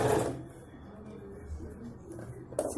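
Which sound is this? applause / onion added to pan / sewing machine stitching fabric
sewing machine stitching fabric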